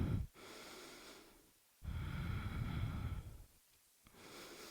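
Deep breathing during a yoga stretch, slow breaths drawn in and let out in long soft whooshes with short pauses between them, close and fairly quiet.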